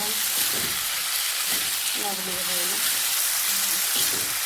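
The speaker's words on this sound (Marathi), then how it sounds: "चांगलं फ्राय करून घेणार आहे अगदी सुक्कं खूप सुक्कं वांग" Eggplant pieces frying dry in a pan for a spicy Maharashtrian vegetable dish, giving a steady soft sizzle throughout with faint stirring or utensil scrapes, close and moderately quiet.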